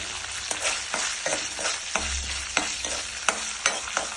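Mustard seeds, dried red chillies and curry leaves tempering in hot oil, a steady crackling sizzle punctuated by repeated spoon stirs and scrapes close by, with no voices.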